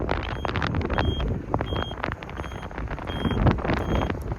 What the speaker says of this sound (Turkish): Rüzgar bayağı çoğaldı.